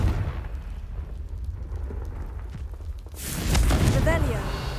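Casting Confringo in Hogwarts Legacy brings a sudden loud fiery blast partway through, a rumbling, crackling burst that swells above quieter background sounds and voices.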